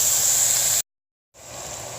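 Sausage, onion and garlic cook in a pot for Zuppa Toscana, giving a steady, fairly loud hiss that cuts out to silence for about half a second before resuming.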